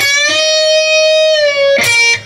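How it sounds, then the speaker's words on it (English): Electric guitar plays a sustained note that bends up, holds steady, then releases back down, ringing alone and clearly, with a fresh picked attack near the end. "bend, hold, release. Sounds like this."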